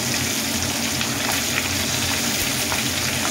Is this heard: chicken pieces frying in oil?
yes